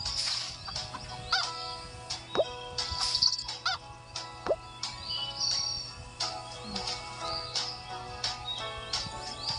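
Chickens clucking and squawking in the Hay Day farming video game, a steady run of short calls at close range over a low background hum, with no talk.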